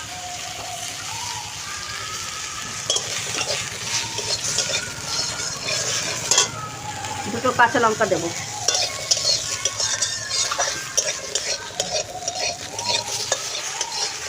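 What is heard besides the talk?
stirring and frying tomato, cashew, ginger and chillies in pan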